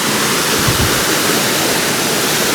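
A hidden waterfall pours down from high above with real force, making a steady, loud, broadband roar of rushing water that stays constant throughout, with no voices.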